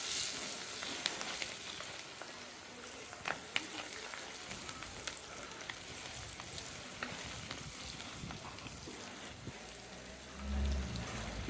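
About fifteen lightly crushed peeled garlic cloves fry in hot oil for a village-style Tamil fish curry, with a continuous soft sizzle, scattered crackles and pops, and a few stirring knocks near the end.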